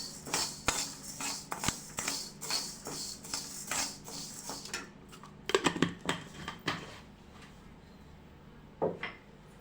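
A spatula scrapes and clinks repeatedly against a kadai as a tablespoon of cumin seeds is dry-roasted for Guntur karam podi, giving close, uneven taps and rattles that thin out toward the end.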